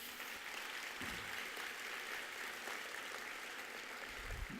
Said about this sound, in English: So let's give our staff a round of applause